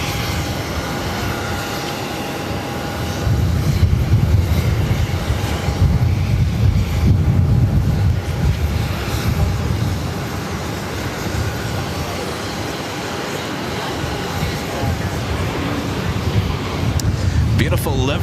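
An airliner arriving on runway 22 left at Boston Logan Airport, a loud, broad engine roar that swells and holds as it passes near.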